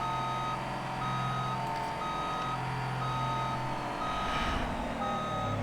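A truck backs up with its reversal alarm beeping steadily in evenly spaced tones over a constant engine rumble, loud and close, with no talk.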